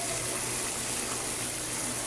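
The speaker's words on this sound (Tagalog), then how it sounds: "Lagyan na natin ng konting tubig." Water poured into a cooking pan while simmering tofu and broccoli with beef liver, a steady loud gushing splash that runs without a break for about two seconds, close up, with no speech.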